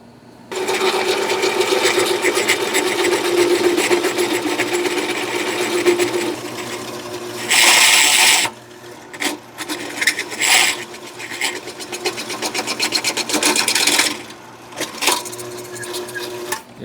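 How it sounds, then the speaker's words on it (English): A small drill press bores with a 3/4 inch bit into metal for a front-mount HEI distributor build on an LS 5.3, a loud steady grinding whir with brief pauses and a sharp higher squeal partway through. "I don't know that this little drill press can handle a 3/4 inch drill bit."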